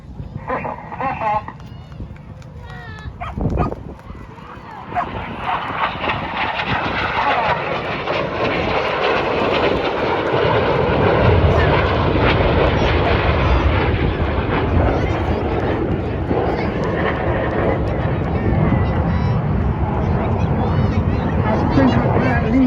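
Red Arrows jets at an Armed Forces Day air display over a loughshore park, a broad roaring jet rumble that swells and holds loud and steady throughout, with an announcer talking over it early on.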